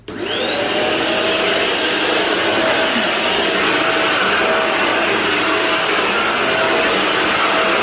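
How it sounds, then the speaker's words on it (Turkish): A vacuum cleaner switches on and runs loudly and steadily with a high whine, close and continuous throughout, no voices. "Hemen buraya da bir süpürge tutacağım."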